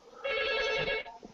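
A telephone, the speaker's uncle's phone, rings in a steady burst of bright tones lasting about a second, then fades, with no talk over it.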